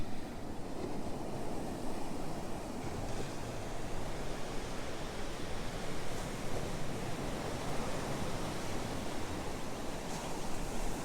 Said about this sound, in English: Get a little bit of the ocean sounds.